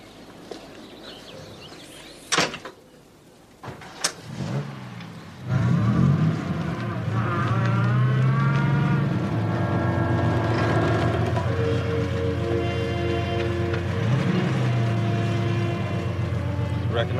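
Car engine starting up and then idling with a steady low rumble, after a few sharp clunks and a short quiet stretch, close and continuous over the rest of the span with no speech.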